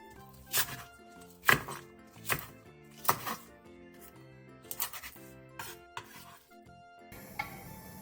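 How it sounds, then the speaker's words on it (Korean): Knife chopping a halved green onion into 3 cm lengths on a cutting board, with about eight crisp, close, irregular thunks. "대파 2분의 1개는 길게 반으로 갈라 3cm 정도 길이로 잘라주세요."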